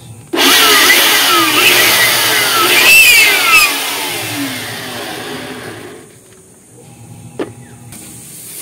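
A loud Bosch GBL 550 electric blower starts up abruptly and runs with a steady whooshing roar and whining motor tone, then drops to a lower hum near the end.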